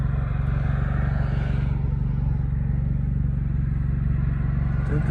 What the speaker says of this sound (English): Heavy traffic day here in Rosarito.